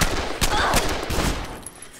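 Gunfire in the zombie game Dead Island, a burst of rapid, loud shots packed closely together in the first second, then fading into quieter rumble.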